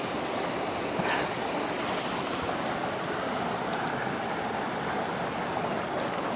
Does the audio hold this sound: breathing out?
no